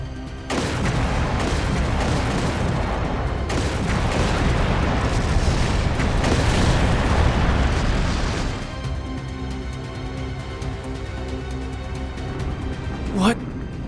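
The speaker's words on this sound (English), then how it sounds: "Confirming source of gunfire." Sustained rumbling blasts and heavy gunfire echo through a city during a video game battle, loud and continuous before easing into quieter tonal background with a brief sharp rising sweep near the end.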